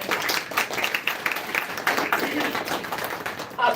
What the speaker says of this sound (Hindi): आपकी तालियां थोड़ी धीमी पड़ती जा रही है।